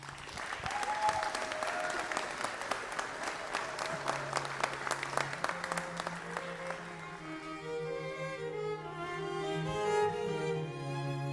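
Audience applause breaks out to welcome the Minneapolis Aquatennial Ambassador Royalty onto the stage at the Big Lake coronation, a steady, dense clapping that carries for about eleven seconds as background music runs underneath.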